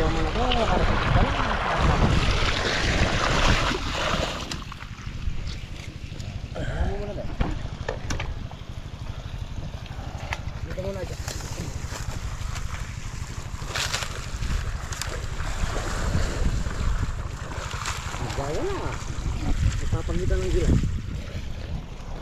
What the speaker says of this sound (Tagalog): Nagwawala ang tubig.